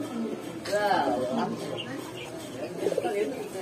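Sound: pigeon

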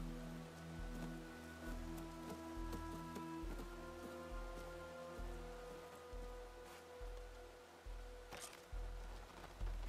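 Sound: rain falling in video game Horizon Forbidden West

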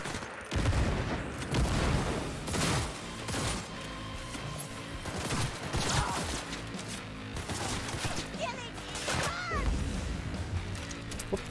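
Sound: grenades exploding in Cyberpunk 2077 video game

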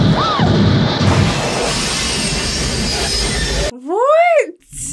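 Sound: steam time machine train in Back to the Future Part III

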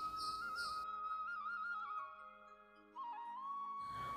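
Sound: pressure cooker whistle

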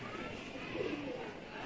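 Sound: pigeons cooing on a Lahore rooftop

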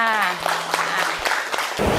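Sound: classroom applause for a classmate

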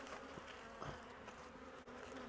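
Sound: honeybees

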